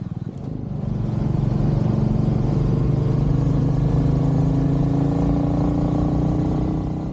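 A Royal Enfield Meteor 350 motorcycle cruises steadily, its engine drone and tonal hum holding loud and close throughout, with wind rush over a road ride in warm weather.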